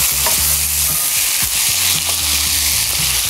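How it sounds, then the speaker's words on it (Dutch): Vegetables are stirred in a hot frying pan, a steady loud sizzle with repeated scraping and clattering of the utensil against the pan in an irregular rhythm. "Groenten even een klein beetje omscheppen."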